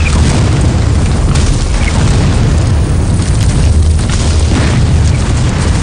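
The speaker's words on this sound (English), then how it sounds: "Bullets and shells fly in all directions." Explosions and shellfire from a Civil War battle at Gettysburg. Booming blasts pile into a loud, unbroken roar of overlapping detonations, close and saturated throughout.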